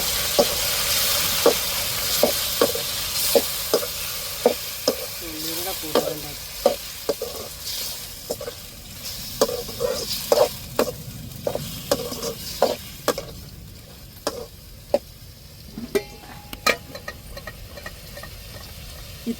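Prawns sizzle and crackle in a pan of frying masala for a prawn and okra curry, with a spoon scraping and clinking in a steady stirring rhythm, loud and close, with no voices.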